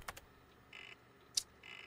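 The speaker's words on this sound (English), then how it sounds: "Typing." Light typing on a computer keyboard: a few scattered soft clicks and two short bursts of quick, faint key taps, with one sharper click between them in a quiet room.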